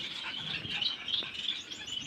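Bengalese finches kept in rows of cages chirp in quick, high twittering calls that overlap across the clip at a steady moderate level.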